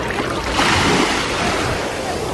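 Ocean surf on a beach at Half Moon Cay, a loud continuous wash of breaking waves mixed with wind buffeting the microphone, with faint voices underneath.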